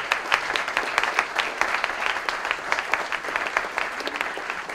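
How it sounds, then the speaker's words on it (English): An audience at a St. Louis poetry event breaks into steady, sustained applause, many hands clapping densely throughout, moderately loud and without speech. "Let's give him a big round of applause."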